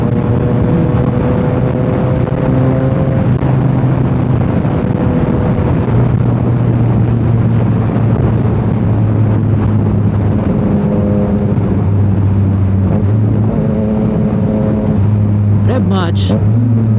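A CFMOTO 675 SR-R motorcycle engine hums and revs while riding, its pitch rising and falling in steps under heavy wind rush. A short revving burst comes near the end.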